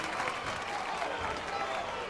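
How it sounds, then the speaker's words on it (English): A basketball arena crowd cheers and applauds at a 1990 Devils vs Saints game, a steady dense roar with no clear peaks, heard under the general din of the venue. "The crowd's starting to go bananas."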